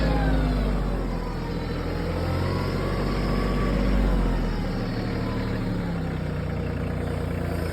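A Kioti CK2610 compact tractor, its 35 hp engine detuned to 25 hp, pulls up a steep hill at high throttle in four-wheel drive, a steady loud droning engine note holding throughout with no talk.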